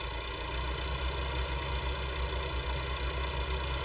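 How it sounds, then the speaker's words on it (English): A tractor engine idles on a farm during soil sampling, holding one steady low drone with a faint knocking pulse and no change in pitch throughout. "we can push this tractor out of the way"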